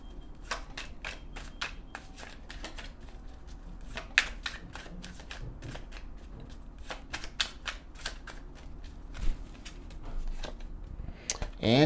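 Oracle cards being shuffled by hand, a quick run of crisp riffling flutters and taps close by, fairly quiet, with occasional faint speech.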